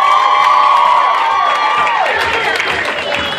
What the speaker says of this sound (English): Give a warm round of applause for Anaconda!